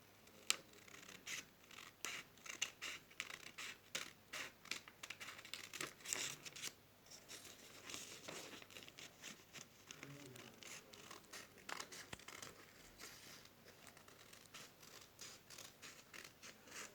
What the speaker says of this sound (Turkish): A4 kağıdıyla bir makas yeterli bizim için burada.